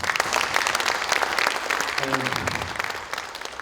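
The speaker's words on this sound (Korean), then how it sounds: "대단히 끌어주시는 이해찬 대표님께 큰 박수 부탁드립니다" Lawmakers at a Democratic Party parliamentary workshop give a big round of applause for party leader Lee Hae-chan. The clapping is continuous and fairly close, with a brief murmur of voices partway through.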